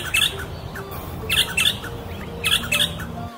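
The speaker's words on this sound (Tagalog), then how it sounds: "Number 11. Eastern Rosella." Eastern Rosella calling in mating season, with repeated bright squawking and chirping bursts arriving in three clusters over steady background noise, moderately close.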